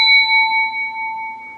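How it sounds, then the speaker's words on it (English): A starting bell for a 62 stock train cab simulator gives a single bright, pure ping like a microwave chime, close and clear, ringing on steadily with a long sustained tone. "If you ever remember the sound of the bell on the 62s and 59s, they had a microwave ping."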